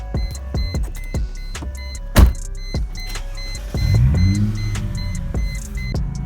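A car engine cranks and starts after a fuel stop, settling into a steady idle with a few sharp clicks and a brief electric whir, heard up close with no talking.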